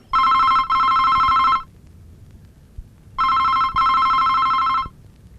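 A telephone rings loudly and close by in two long double-pulsed bursts separated by a quiet gap, with no one talking.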